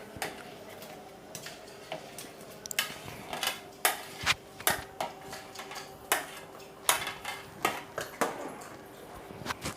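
A spoon stirring roasted banana into payasam in a pan, irregular clinks and scrapes of metal against the pan with soft gaps between them, close by and moderately loud.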